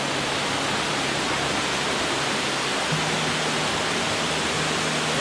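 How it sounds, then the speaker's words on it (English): Lower falls of Helton Creek in North Georgia, water pouring in a dense, steady broadband roar, constant and fairly close with no pauses. "Here we are guys, we're at the lower falls."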